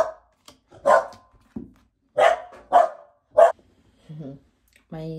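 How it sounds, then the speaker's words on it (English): A household dog barks in several sharp, loud bursts nearby, separated by short pauses, with a few brief vocal sounds between them. "My dog was shouting because my son was coming."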